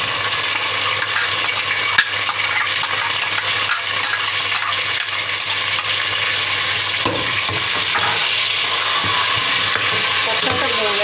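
Ground, peeled and deseeded tomato paste frying in hot oil for a pumpkin and chicken curry, a steady close sizzle with occasional stirring clinks of a utensil against the pan throughout.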